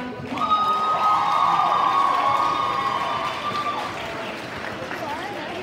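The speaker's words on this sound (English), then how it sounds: "Let's give all these amazing performers one more big round of applause." An audience at a school symphonic winds concert claps and cheers in a sustained burst, with shouts and a whistle-like tone riding over the crowd noise before it slowly tapers off.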